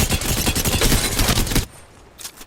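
Video game gunfire from a no-scope gun: a dense, loud burst of rapid rattling shots for about a second and a half, then a sudden stop into quiet with a faint click afterward.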